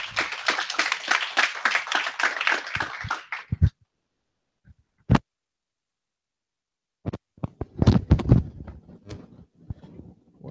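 A small audience claps before a GraphQL introduction talk at a tech meetup, dense applause for about three and a half seconds, then silence broken by a lone clap, followed by scattered shuffling and handling noises.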